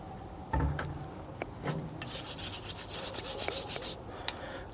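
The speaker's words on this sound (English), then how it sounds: "Give it a light scrubbing." Light scrubbing of oily tools being cleaned with Superclean degreaser after an oil change: a rapid run of close, rhythmic brushing strokes in the middle, with scattered scrapes and knocks around it.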